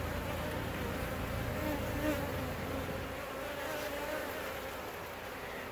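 Honey bees buzz around an open hive during an inspection, a dense, steady swarm hum at moderate volume that swells and fades only slightly, with no talking over it.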